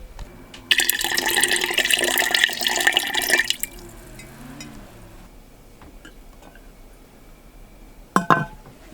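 Brine poured into a cabbage fermentation crock makes a steady splashing gush for about three seconds and then stops. After a quiet stretch, a short clink sounds near the end.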